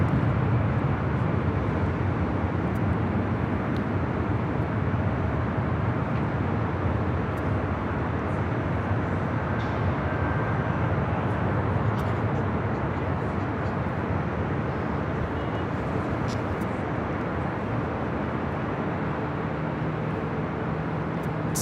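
A Delta Airlines Airbus A319 takes off from LAX, producing a continuous broad roar that holds steady across the whole stretch, heard from a spotting position with no talking.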